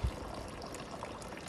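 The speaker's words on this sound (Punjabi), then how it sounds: "ਆਹ ਪਾਣੀ ਵੇਖੋ ਥੋੜ੍ਹਾ ਥੋੜ੍ਹਾ ਆ ਰਿਹਾ" Water trickling out of a rooftop water tank being emptied for cleaning, a steady close stream with a soft thump at the start and no talk.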